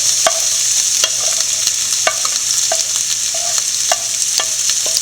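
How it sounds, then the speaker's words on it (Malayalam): Onion, garlic, ginger and green chilli fry in hot oil for a Kuttanadan duck curry, giving a steady close sizzle with repeated stirring clatters, no voices present. "നല്ലപോലെ ചൂടായിട്ടുണ്ട് നമുക്ക് സവോളയും വെളുത്തുള്ളിയും ഇഞ്ചിയും പച്ചമുളകും കൂടെ ഇട്ട് കൊടുക്കാം"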